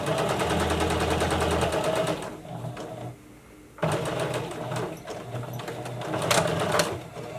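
Sewing machine stitching a fabric face mask, a steady whirring run that stops briefly partway through, then resumes in close, loud bursts.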